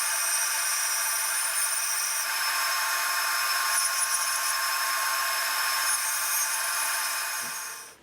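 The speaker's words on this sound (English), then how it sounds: "so now I'll just bandsaw this out" Bandsaw cutting wood for a classical guitar neck heel, a steady, bright whining cut held evenly for about seven seconds before the blade sound dies away, with no talk.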